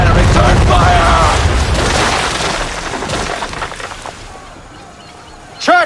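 Ship cannons fire during a naval battle in Assassin's Creed 3, producing a loud, dense rumbling barrage that gradually fades over several seconds before a brief sharp sound at the end.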